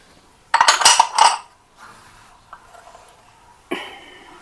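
Washed bowls and spoons clatter and clink as they are stacked and put away, a loud burst of ringing ceramic and metal followed by quieter scattered knocks and one more sharp clink.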